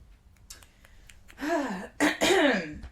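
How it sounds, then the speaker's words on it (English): A man clears his throat twice in quick succession, two short rough voiced bursts close to the mic in a quiet indoor room. "Gotta clear my throat."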